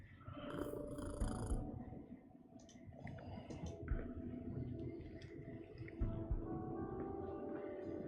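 Mildred the cat in the video game Kathy Rain 2 purring while being petted, a faint, soft, continuous rumbling purr with light clicks, close and alone without speech.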